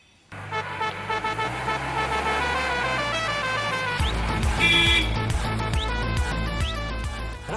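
A jeep pulls up with a low engine rumble that swells midway, followed by short horn toots over background music.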